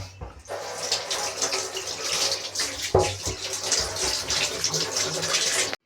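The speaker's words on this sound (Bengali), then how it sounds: "এবার চালতাগুলোকে ধুতে হবে।" Elephant apple (chalta) fruits are washed in water for pickle, giving a continuous close splashing and running-water rush with one sharp knock partway through.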